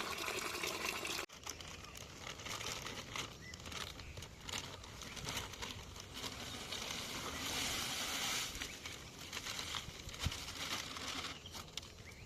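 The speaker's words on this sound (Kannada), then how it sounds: "ನೀರು ಇದಕ್ಕೆ ಹಾಕ್ತಾ ಇದ್ದೇನೆ" Water pours steadily into a pot in a home setting, a continuous splashing gush that runs near and fairly loud for most of the clip after a brief cut near the start, with no talking.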